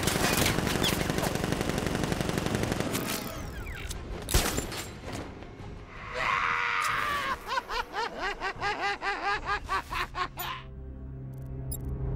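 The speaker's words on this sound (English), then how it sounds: "Guard! Open fire! Shoot everything!" Cartoon-style rapid gunfire from guards opening fire, a long burst of machine-gun bursts and shots with a pause, then a fast rhythmic volley of shots, loud and chaotic, with a voice shouting at the start.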